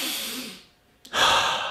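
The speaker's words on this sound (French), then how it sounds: "Maintenant, on prend une grande respiration." A single deep breath: a soft airy inhale, a brief pause of near silence, then a sharper, louder exhale close to the microphone, with no talking.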